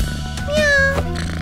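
A voice imitating a cat's meow in a Romanian children's cartoon about pets, one short, loud, rising-then-falling meow over a soft music bed.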